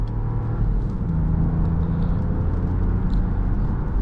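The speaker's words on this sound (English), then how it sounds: "That was just a gentle acceleration there, nothing too aggressive" Engine of a Buick Envista Avenir, roughly 132 horsepower, during gentle acceleration on a slick road, a steady low rumble and hum heard from inside the cabin with no sharp revving.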